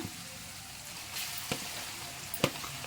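Grated raw mango tipped into hot oil with curry leaves for mango thokku, giving a steady soft sizzle with a few sharper crackles and spoon scrapes.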